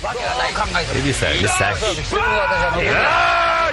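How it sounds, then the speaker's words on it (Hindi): A game-show contestant lets out loud, drawn-out yells amid an energetic mix of voices and crowd noise on an obstacle-course challenge, with shouting rising and falling over several seconds. "अबे चिल्ला तो ऐसा दिया है जैसे हिमालय पे चढ़ गया हो"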